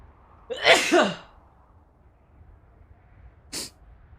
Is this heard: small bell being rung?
no